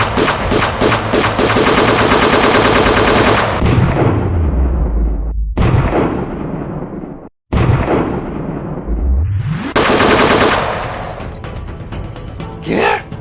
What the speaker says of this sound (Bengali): নিচে গুলি কর, প্যান্টে গুলি কর।